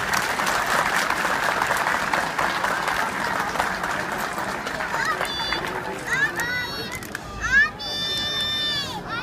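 A crowd at an outdoor ceremony marking Manyas's 92nd liberation anniversary claps steadily for several seconds. The applause then thins out, and an amplified voice and warbling tones take over toward the end.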